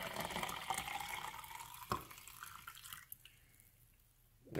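Hot water pours steadily into a glass French press for coffee, a soft continuous liquid trickle that tapers off into quiet near the end.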